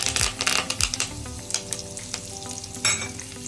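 Curry leaves hit hot oil while tempering for North Karnataka mandakki oggarane, a loud, close crackling sizzle with sharp pops and stirring scrapes, alone without talk.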